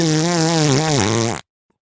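A harmonica plays from an early recording, a buzzy, reedy held note that bends downward before cutting off abruptly into silence.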